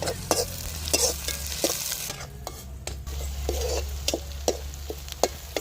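Onions, green chillies and ginger-garlic paste fry in a pan while a spoon stirs them, with a steady sizzle under repeated scraping strokes at a fairly regular pace, close up and with no voices.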